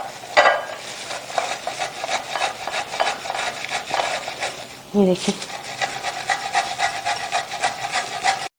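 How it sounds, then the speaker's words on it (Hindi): A boiled, softened potato is rubbed against a kitchen grater in steady, repeated rasping strokes, close and clear, with a short pause midway and a few spoken words near the start. "आलू जो है उबला हुआ है, गला हुआ है, ठीक है। इसको हम कद्दूकश कर लें"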